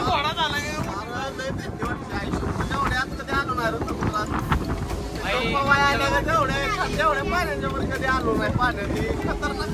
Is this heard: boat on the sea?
yes